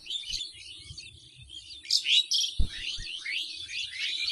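A black-headed ibis calls amid other birds, with short high chirps and squeaky notes scattered throughout, a louder burst in the middle, and a low thump partway through.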